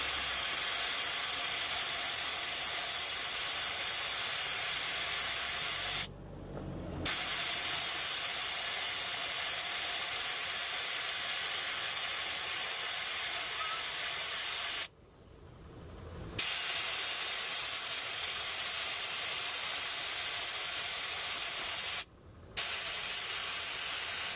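Loud continuous hissing of air escaping from a deflating 4WD tyre runs throughout, broken by three brief pauses.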